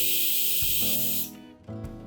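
A pressure cooker cooking masoor dal with oil and water on high flame lets out a loud, steady steam whistle, a harsh hiss with a tonal edge that cuts off abruptly, followed by quieter rattling and a brief second burst.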